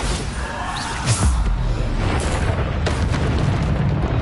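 Bombarda spell blasts in the video game Hogwarts Legacy, a loud booming explosion with a sharp impact near the middle over a continuous rumbling, crackling bed of battle noise.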